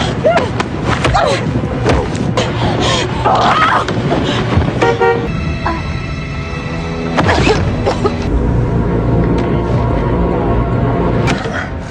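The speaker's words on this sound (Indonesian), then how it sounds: "ia sempat membunyikan klakson" A car horn honks amid a busy, loud mix of action sounds and vehicle noise, with some voices in the background.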